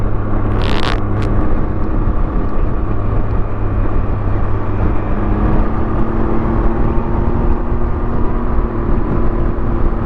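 Steady, loud engine drone of a Can-Am vehicle being ridden on a short trip to a store, a continuous low rumble with a brief burst of wind or road noise near the start and a slight pitch shift later on.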